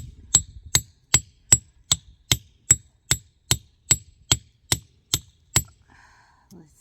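Hammer blows striking a chisel against rock, about thirteen sharp metallic strikes at a steady rhythm, close and loud, then a brief quiet tail.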